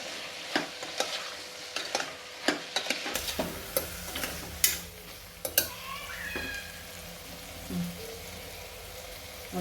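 A spoon stirring salt and jaggery into a dudhi and chana dal curry in a pan, with scattered scraping knocks and clinks over a low sizzle, close and without talk.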